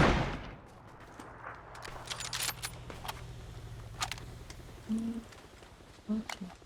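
Scattered gunshots in the video game PUBG, a few sharp cracks spread out under ongoing Turkish talk and faint background game noise.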